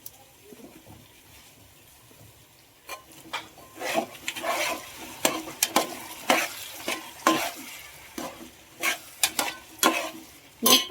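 Cut tomatoes tipped into a hot pan for veg pulao, frying and sizzling under repeated scraping stir strokes, the spoon clacks coming in an irregular rhythm that grows louder after the first few seconds.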